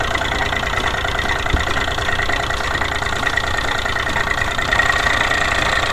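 A hired boat's engine runs steadily on a boat ride, a continuous even idling drone with a faint rhythmic knock and no voices.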